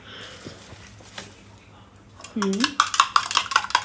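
Pan and utensils clatter and scrape during omelette-making in Amul butter, a brief low sizzle-like swell midway, then a run of quick metallic clinks growing louder toward the end, with no talk.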